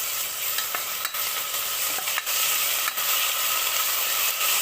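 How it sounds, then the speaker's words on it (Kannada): Garlic and ginger fry in a pan with a loud, dense, continuous sizzle, while a spoon stirs and scrapes now and then, close up, with no talking. "ಬೆಳ್ಳುಳ್ಳಿ ಹಾಕ್ತಾಯಿದ್ದೀನಿ, ಶುಂಠಿ ಹಾಕಿದ್ದೀನಿ, ಈಗ ಫ್ರೈ ಮಾಡಬೇಕಿದೆ ಚೆನ್ನಾಗಿ"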